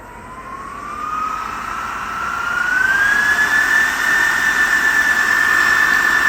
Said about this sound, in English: I want to let you hear the sound of the fan.